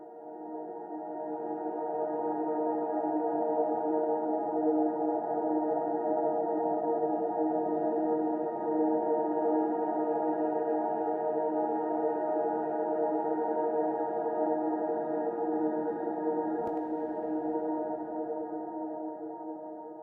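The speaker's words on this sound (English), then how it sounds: "Let's have a listen to the ambience soloed." A soloed ambience layer from a cinematic string demo track: a sustained, evenly droning tonal pad with layered steady tones fades in and holds for the full length, smooth and mid-loud, alone without talk.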